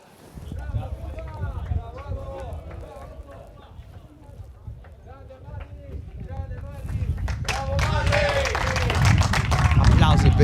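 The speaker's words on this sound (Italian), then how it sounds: "Applausi per il capitano, miglior marcatore del Pirri" Scattered clapping from a small crowd rises steadily toward the end, with a commentator talking over it, after the captain scores in an amateur first-category football match.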